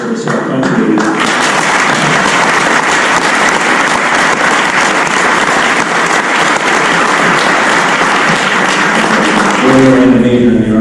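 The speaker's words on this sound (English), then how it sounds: "maybe we should give John Jr. another round of applause for his service to our country" An audience at a court dedication breaks into loud, sustained applause lasting about ten seconds, with speech heard briefly at the start and end.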